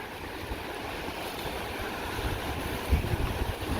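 Waves wash onto the Lake Huron shore at Harbor Beach, Michigan, a steady broad surf rush with light wind noise and a slightly stronger swell near the end.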